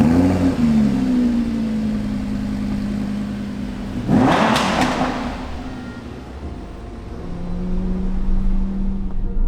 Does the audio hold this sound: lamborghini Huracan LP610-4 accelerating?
yes